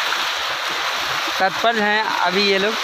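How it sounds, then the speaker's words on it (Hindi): Fast-flowing river water rushes with a constant hissing wash, and someone speaks over it in the second half. "पानी पूरा रफ्तार से बहता"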